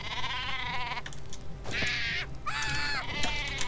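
Exploding sheep weapon in Worms Reloaded bleating in repeated wavering cries, a few separate bleats over faint game background and low chatter.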